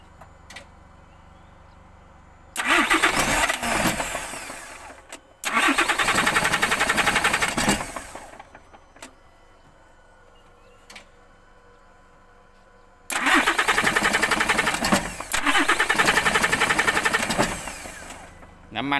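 A tractor-unit truck engine cranks in three long, loud, close bursts separated by quiet pauses, each a harsh churning roar that cuts off abruptly, with faint ticking between attempts.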